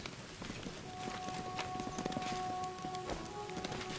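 Steady rain patters across a town in Pathfinder: Wrath of the Righteous, a continuous soft hiss with scattered drop taps and faint tonal ambience beneath.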